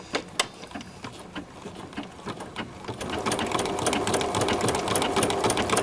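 A Bernina sewing machine stitches through a cork book cover: first a few separate needle strokes, then a fast, steady mechanical chatter that builds and continues close-up.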